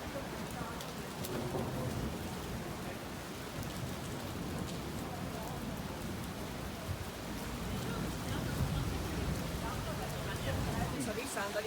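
Steady rain falling outdoors at a street gathering near a station, a dense continuous patter with faint voices in the background.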